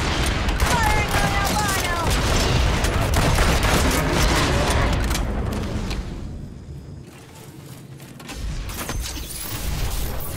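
Dense rapid gunfire from the video game Evolve, targeting an albino monster, crackles continuously as loud bursts for most of the stretch, dipping briefly before resuming.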